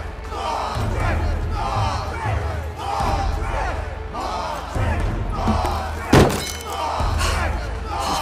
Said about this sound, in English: take this crowbar and crack open that old emergency kit